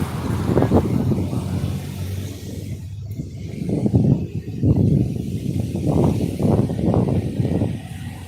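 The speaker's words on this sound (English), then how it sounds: "I gotta be careful with these motorbikes." Nighttime street traffic with cars and motorbikes passing a crossing in Medellín's La 70 nightlife district in Laureles, a steady roadway rumble with several vehicles swelling past one after another at close range.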